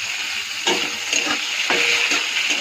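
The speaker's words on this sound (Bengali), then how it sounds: "কাটা টমেটোটা ছেড়ে দেবো" Chopped tomato hits a hot pan of onions and black cumin and frying sizzles loudly, with spatula scrapes and stirring knocks repeating over the steady hiss.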